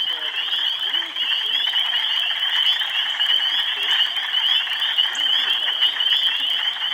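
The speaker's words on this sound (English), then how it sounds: "we could hear spring peepers calling along with the wood frogs" A dense, loud chorus of high, shrill spring peepers rings continuously, with lower rattling croaks of wood frogs mixed in beneath.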